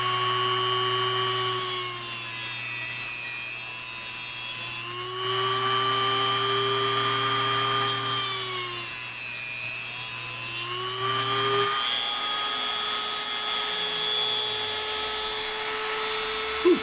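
A small power tool cuts brass or aluminum hobby tubing, a steady whining drone with rising and falling tonal pitches as the blade engages the metal, ending as the tool spins down.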